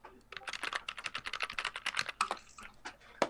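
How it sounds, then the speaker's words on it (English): Rapid, loud typing on a computer keyboard, a dense close run of sharp key clicks in uneven bursts, with a final harder key strike at the end. "Loud typing."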